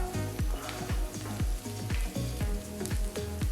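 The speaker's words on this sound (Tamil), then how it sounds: "கொஞ்சமாக பொடியாக நறுக்கின இஞ்சி, 5-6 பல்லு பூண்டு பொடியாக நறுக்கினது சேர்த்து வதக்குங்க." Chopped onion, ginger, garlic and green chilies sizzle in hot oil with a steady crackling hiss, close up and continuous.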